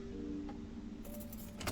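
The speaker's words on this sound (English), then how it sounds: "I've got the right key here. The door's unlocked." Keys jangle as a door is unlocked in the Black Mirror 3 video game, a short metallic rattle that comes in a brief clinking burst near the end over a low steady hum.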